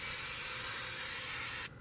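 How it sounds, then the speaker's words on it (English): Spray adhesive hisses steadily from an aerosol can onto upholstery foam for a T cushion, a loud continuous close spray that cuts off abruptly near the end, leaving faint room tone. "I spray adhesive on the bottom one"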